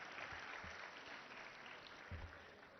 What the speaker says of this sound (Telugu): మనం అందరం ఒకసారి గట్టిగా చప్పట్లు కొట్టాలని కోరుకుంటున్నాం